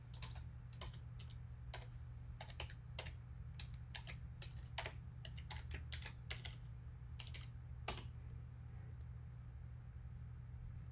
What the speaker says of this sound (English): I need to type in my StarID and password.